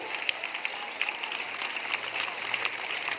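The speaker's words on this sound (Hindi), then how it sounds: "तो एक बार पंडित जवाहरलाल नेहरू के नाम पर जोरदार तालियां होनी चाहिए" Schoolchildren and teachers clapping at a Children's Day school event, a fairly faint, steady spatter of applause with scattered sharper claps standing out.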